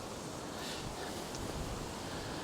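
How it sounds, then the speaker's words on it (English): Wind gusting across a caravan and motorhome club site in Cheddar, a constant broadband rush with buffeting on the microphone and no other distinct sounds. "it's windy today"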